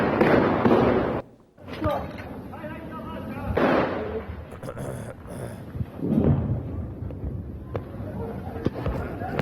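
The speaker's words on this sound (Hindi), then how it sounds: "निर्दोष लोगों पर बेतहाशा गोलियां बरसाते हुए ये लड़ाके नजर आए।" Gunfire from Hamas fighters shooting at people, a series of loud cracks and bursts with echoing booms, mixed with shouting voices and crowd commotion throughout.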